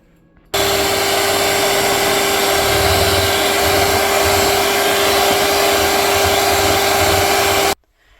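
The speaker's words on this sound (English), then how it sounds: "Now I'm going to do a long mix for 10 minutes long." An electric mixer runs a long mix of gluten-free sorghum bread dough, with a loud steady motor whir and a constant high whine that switches on sharply, holds evenly for about seven seconds, then cuts off.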